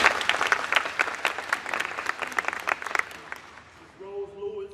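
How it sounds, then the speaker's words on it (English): Audience at a community meeting applauds a volunteer, a dense burst of many hands clapping that fades away after about four seconds, leaving a faint steady tone. "Let's give her a round of applause."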